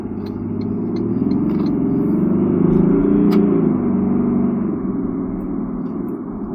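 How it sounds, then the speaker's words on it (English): A 2023 Toyota LandCruiser 300 Sahara with a V6 twin-turbo diesel and 10-speed gearbox cruising on the road, heard from inside as a steady low engine and road rumble that swells slightly midway. "V6 diesel twin turbo actually feels very, very nice on the road, and planted on the road, and it just has a lot of power."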